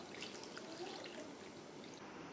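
Water pours steadily into a pot of seafood tom yam soup with vegetables, a soft continuous trickle and splash heard close and alone throughout.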